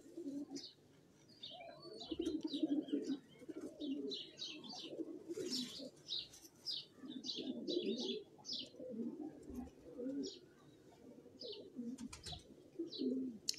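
Breeder pigeons on a rooftop coo steadily and repeatedly, their low throaty calls overlapping from several birds nearby, with scattered high chirps throughout.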